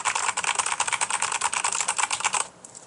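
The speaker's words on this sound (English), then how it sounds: "So I'm now banging on my keyboard, just going ham at it." A computer keyboard is hammered hard and fast, with a dense, rapid clatter of close key strikes for over two seconds before it stops abruptly into quiet room tone.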